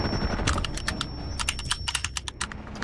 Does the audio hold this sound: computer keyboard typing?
yes